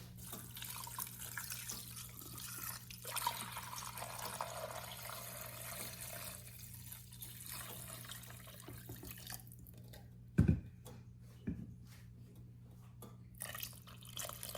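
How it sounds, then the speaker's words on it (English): Water is poured from a tap over roasted bones in a pressure cooker, a quiet, steady splashing stream that stops near the end and leaves a few brief drips and clunks. "All we have to do now is add water."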